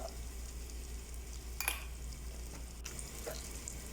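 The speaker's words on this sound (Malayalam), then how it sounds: "ഇനി ആ കുക്കറിൽ തന്നെ ഒന്നര ടേബിൾ സ്പൂൺ നെയ്യ് ചേർക്കുക" One and a half tablespoons of ghee heating in a pressure cooker for prawn biryani gives a faint, steady sizzle over a low hum, with a couple of light metallic clinks.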